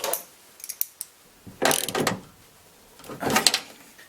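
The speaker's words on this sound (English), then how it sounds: "We will reinstall the bolt." A bolt being refitted into a car lock during rekeying, heard as close mechanical clicks and two longer ratcheting, grinding bursts of metal parts working against each other.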